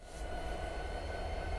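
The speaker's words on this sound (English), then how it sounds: "Watch the train as the train head pulls forward" Train moving forward in the Train Sim 2017 railway simulator, a steady low rumble of rolling stock that holds an even level for the whole short span, with no voices.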